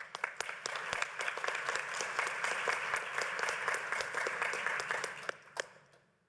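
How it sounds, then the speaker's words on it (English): Audience applause at the close of a conference talk on drug treatment and harm reduction services, a steady wash of many hands clapping at moderate volume for about six seconds before fading out. "I hope you could hear the applause."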